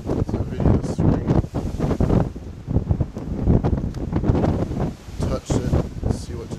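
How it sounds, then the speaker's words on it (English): Strong wind gusts roar and buffet across the open bow deck of the cruise ship Freedom of the Seas, loud and rumbling into the microphone, with a voice exclaiming over it. "Whoa, big blast of wind."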